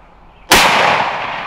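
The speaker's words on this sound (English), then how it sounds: "Shoot him again. Shoot him again." A single loud gunshot during a turkey hunt, sharp and close, cracking suddenly out of quiet and then ringing and decaying for about a second.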